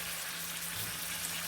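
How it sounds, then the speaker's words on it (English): Close, continuous hiss and crackle of a pork roast searing in a hot pan, with a faint steady hum underneath. "Oh, hear that sizzle."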